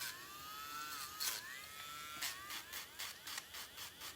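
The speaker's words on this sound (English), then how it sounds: "I was actually able to drill my right hand, hold in the drill with my left hand and drill my right nails" Electric nail drill turned down low, filing fingernails with a steady high whine that dips and rises in pitch as it presses against the nail, with short scraping bursts between.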